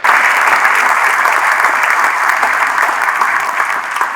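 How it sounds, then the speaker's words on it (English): Audience at a state agency recognition awards ceremony applauds, a loud, steady burst of clapping from a full room with no voices over it. "So let's give him a round of applause anyway"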